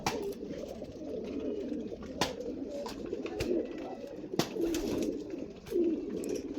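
Belgian racing pigeons coo softly in a loft, low murmuring calls repeating under faint background noise and a few sharp clicks and knocks.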